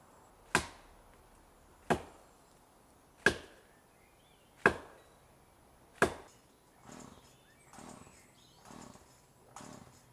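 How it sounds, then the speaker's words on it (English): An axe bites into a pine tree in five loud, sharp chops spaced at a steady beat, followed by several softer, duller blows, with no talking. "gone at it with an axe"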